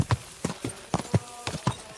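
Horse hooves clip-clop at a steady walking pace in the game Kingdom Come Deliverance 2, about eight close, crisp strikes over two seconds, with no talk.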